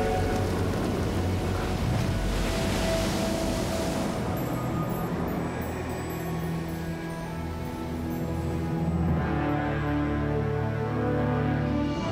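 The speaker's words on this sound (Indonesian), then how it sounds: "Yesus menghentikan badai itu." An animated cartoon storm, with heavy steady rain hissing and low rumbling thunder rolling underneath, swelling in broad waves throughout, no voices.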